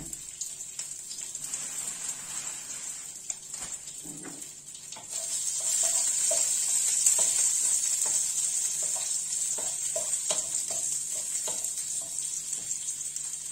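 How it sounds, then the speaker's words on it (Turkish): Sheep tail fat frying in a sac pan gives a continuous hissing sizzle that grows louder partway through, with faint clinks and scrapes from utensils and no speech. "Kuyruk yağımız biraz içerisinde güzel kızarsın."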